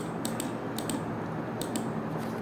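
Light keystrokes on a computer keyboard come in two short bursts of a few clicks each, soft and close over a steady low hum.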